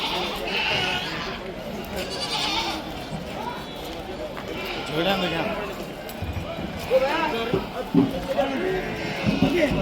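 At the weekly Thursday morning goat market in Haveri, Karnataka, goats bleat now and then among a busy crowd, the cries mixed with constant nearby chatter and market bustle.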